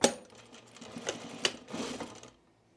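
Sewing machine stitching pre-quilted jacket fabric, a short close run of rapid mechanical needle strokes with a couple of louder clunks, stopping abruptly near the end.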